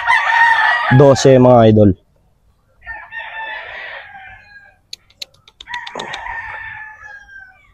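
A Green Legged Sweater gamefowl rooster crows loudly and close by in one full call, followed by scattered clucks and someone talking briefly.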